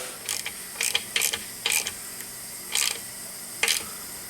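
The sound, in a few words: tightening a TPMS sensor nut with a ratchet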